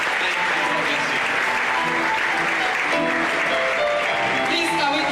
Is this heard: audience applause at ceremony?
yes